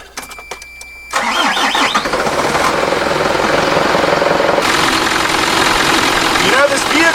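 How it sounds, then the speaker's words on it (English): A Mitsubishi Fuso FG140 diesel truck engine cranks after some quiet clicks, catches, then settles into a loud, steady, close idle that holds to the end. "so we are good to start the engine"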